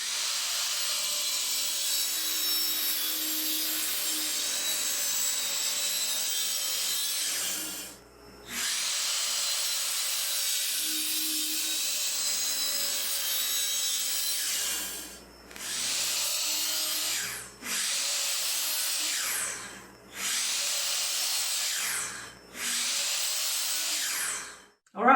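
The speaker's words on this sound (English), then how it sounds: "we're going to stack these and run the miter saw over them" Miter saw slicing through stacked wooden fence pickets, a sustained whining cut that repeats several times, each pass ending in a short pause before the blade bites again.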